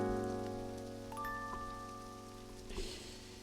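Rain falls as a soft, steady hiss in the Moonlight Jammers video game, faint and continuous beneath sustained musical tones, with a brief louder swell near the end and no talk.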